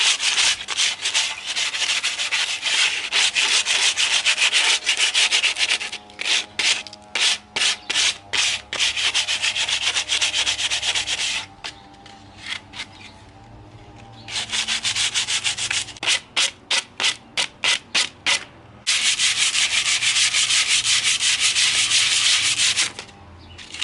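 Coarse grade 80 sandpaper rubbed by hand over wood for a kicker ramp, a loud close scratching in long runs of rapid back-and-forth strokes broken by short pauses, with no voices.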